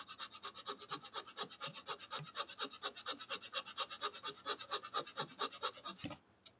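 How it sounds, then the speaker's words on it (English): A hand file rasps steadily on a small wooden cube in quick, even back-and-forth strokes, close and fairly loud, running for several seconds before stopping abruptly. "just a little bit of filing. It's a little loud, but we can deal with this."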